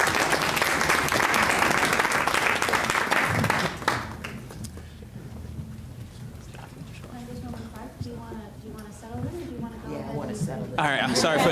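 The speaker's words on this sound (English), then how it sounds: "So can we give her a round of applause," Audience applause at a community board meeting, a dense burst of clapping filling the first few seconds before fading into room noise and scattered voices as talk resumes.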